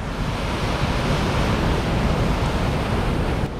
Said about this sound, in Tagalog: Grabe, lalaki talaga ng alon.